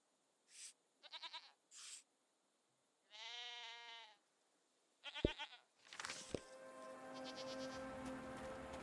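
A goat bleats repeatedly in the game Season: A Letter to the Future, several quavering calls spaced apart, followed by a couple of sharp knocks and a steady patter like light rain underneath.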